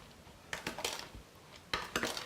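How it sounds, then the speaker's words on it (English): A spoon mixes dry topping ingredients for a rhubarb cake in a bowl, producing two close bursts of quick clinking scrapes against the dish, with no talking. "I'm going to get a spoon here just to mix that"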